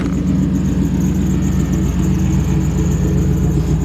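1985 Jeep CJ-7 with an LS engine idling steadily with a fairly quiet exhaust, a low even rumble with a soft rhythmic pulse and no voices.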